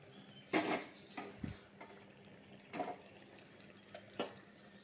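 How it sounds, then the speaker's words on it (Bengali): Cut sweet pumpkin pieces go into a cooking pan already holding half-boiled pointed gourd, with several soft, spaced clunks and taps of the pieces and utensil against the pan over a quiet background. "মিষ্টি কুমড়া কাটাটা ঢেলে দিব।"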